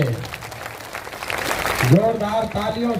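A political rally crowd claps to welcome Manoj Bharti, with loud, dense applause that swells and then carries on under someone speaking through a PA.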